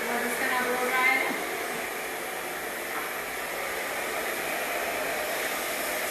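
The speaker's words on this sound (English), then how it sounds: "we're just going to blow dry it in." A steady, airy roar of a hair dryer blowing in colored hair dye runs continuously at close range, with a brief louder swell near the start.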